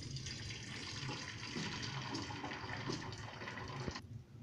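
Boiled pasta being strained after cooking, its water pouring out and draining in a steady, close splashing rush that runs almost the whole time before cutting off near the end.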